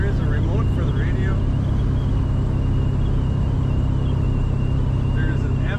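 A 1982 Dodge D150 pickup cruising on a road, heard from inside the cab: a steady, loud low engine and road rumble, with faint tones drifting over it and no break in the drone.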